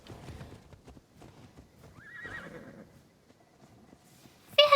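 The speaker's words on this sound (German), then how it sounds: "Pferdchen!" A horse in the video game Immortals Fenyx Rising whinnies with a rising, wavering cry over clip-clopping hooves and game ambience, ending in a sharp burst of sound.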